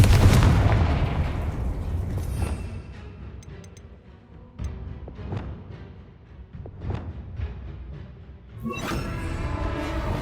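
Fire blast spells cast in the Hogwarts Legacy video game: a series of booming bursts and explosive pops, one loud blast at the start, then several sharper hits spaced across the clip, with a rushing crackle near the end.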